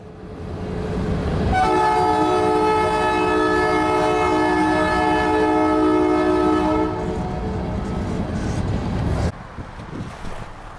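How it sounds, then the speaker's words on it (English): An Iowa Interstate freight train hauled by SD38 diesel locomotives rumbles past nearby near Peoria, its horn blaring in a long sustained chord for several seconds before cutting off, leaving the rolling rumble of cars. "As the train exited yard limits"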